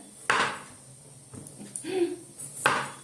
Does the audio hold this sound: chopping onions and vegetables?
yes